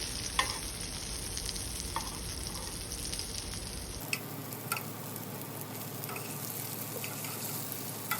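Zucchini sautés in oil in a pan, giving a continuous close sizzle with occasional clicks and taps of tongs, the background tone shifting abruptly partway through.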